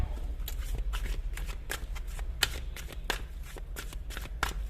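Oracle cards shuffled by hand during a tarot reading, a quick, close series of papery riffles and flicks that repeat irregularly, with no talking.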